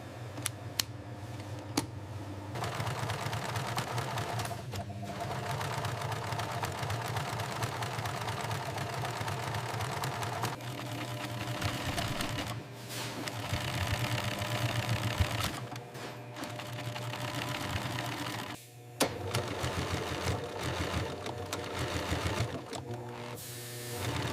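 A heavy-duty sewing machine stitching thick seams in shearling panels runs steadily for a long stretch, loud and mechanical, pausing briefly a few times before resuming its rapid stitching.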